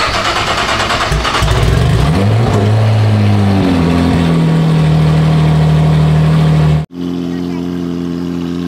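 A loud Lamborghini Aventador V12 engine roars and revs with rising and falling pitch, then cuts abruptly to a steady low idle; voices talk underneath.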